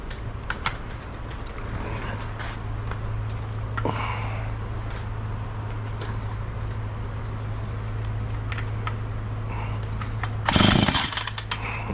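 A Husqvarna chainsaw is pull-started after being primed and choked, a steady low drone under repeated rattling pulls, ending in a loud, brief sputter as the engine nearly fires.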